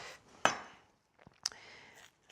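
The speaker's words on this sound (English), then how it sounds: "So we'll just chop these onions." A kitchen knife chopping onions on a cutting board: two or three sharp, separate strikes, close and fairly loud, with quiet gaps between them.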